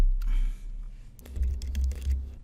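Keys clatter on a computer keyboard as a command is entered, a low hum first, then a close burst of quick, irregular clicks and taps in the second half.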